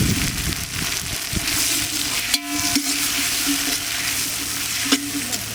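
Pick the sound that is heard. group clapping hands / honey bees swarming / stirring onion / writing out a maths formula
stirring onion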